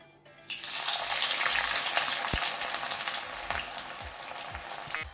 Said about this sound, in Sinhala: දැන් මම කරන්න යන්නේ වම්බටු ටික ගැඹුරු තෙලේ බැද ගන්න.